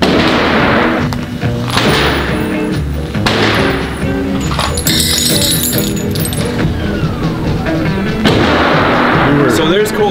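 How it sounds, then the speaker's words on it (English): AK rifle gunfire at an outdoor shooting range, loud repeated booming shots with echoing thuds spread across the stretch, with people talking in between. "So there's Colton's AK."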